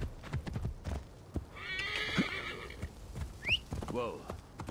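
A horse ridden in Assassin's Creed Origins trots with rhythmic clip-clop hoofbeats on a mountain path, punctuated by a whinny and snorts, all fairly close and clear.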